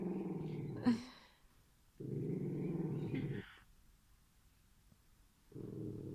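A dog growls in low, rumbling bursts close to the microphone, three separate stretches broken by quiet gaps, the first with a sharp yelp-like spike.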